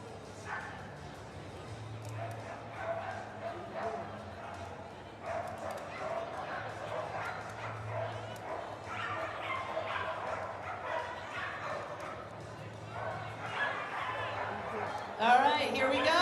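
Dogs bark and yip at a flyball tournament at the Westminster Kennel Club Dog Show, scattered excited barks rising over a busy arena crowd and announcer talk, with a louder burst near the end.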